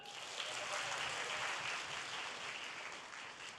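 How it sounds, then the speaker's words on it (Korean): Audience applause in a lecture hall at a Korean college-entrance talk concert, a steady, fairly faint wash of clapping that holds evenly for several seconds with no voices over it. "큰 박수 부탁드립니다"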